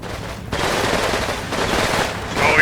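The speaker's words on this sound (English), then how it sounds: "Oh, there's still a machine gun there" Machine gun fire in the combat video game Combat Mission: Red Thunder, a loud, dense rattle of rapid shots that keeps going for nearly three seconds and swells at the end.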